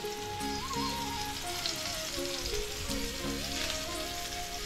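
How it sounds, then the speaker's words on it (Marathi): Quiet, even sizzling of mackerel frying in oil on a flat griddle pan over low heat, with music playing faintly in the background. "असं फ्राय करण्यासाठी तेल तापलं की तव्यावर टाकायचं"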